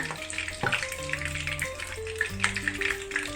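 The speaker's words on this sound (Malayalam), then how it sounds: "1 ടീസ്പൂൺ ഇഞ്ചി വെളുത്തുള്ളി പേസ്റ്റ് ഇട്ട് കൊടുത്തിട്ട് നന്നായിട്ട് ഇളക്കി കൊടുക്കുക" Ginger garlic paste frying in hot oil in a pan on a gas stove for chicken curry, a steady soft sizzle with stirring, under background music.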